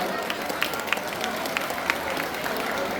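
An audience at an outdoor singing event applauds in a steady, moderately loud wash of clapping with a few sharper claps standing out, while a voice carries over it.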